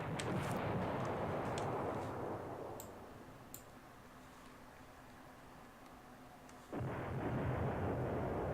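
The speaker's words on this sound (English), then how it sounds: "I think that's good bombardment still." Artillery bombardment in the strategy game Command Ops 2: a dense, continuous rumble of distant shellfire with scattered sharper cracks. It eases into a quieter stretch, then swells back to full strength near the end, with no talking.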